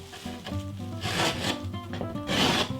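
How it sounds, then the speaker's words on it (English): A blade saws through drywall up to a wall stud, making close, uneven rasping strokes in short bursts, with no voices. "I'm just cutting up to the stud, and then I'll take my drywall here"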